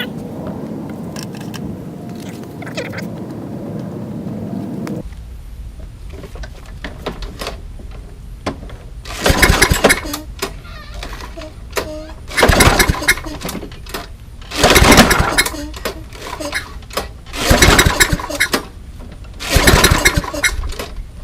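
An abused Toro Recycler lawn mower is pull-started about five times in a row. Each yank gives a short, loud mechanical rasp, and the engine never catches, with quiet gaps between the tries after some low shuffling.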